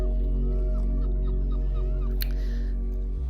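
Ibis on Culatra Island in the Algarve giving a few duck-like honking calls over a steady low background hum, moderately near.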